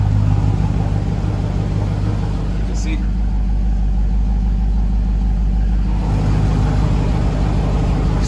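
A Dodge Durango SRT running a Diablosport tune gives off a steady, loud, close engine rumble from inside the cabin while someone speaks over it.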